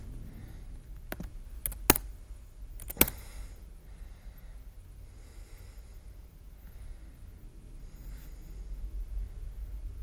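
Computer keyboard keys tapped in a few short, sharp bursts, loud clicks clustered near the start and then sparse, faint tapping over a quiet background hum.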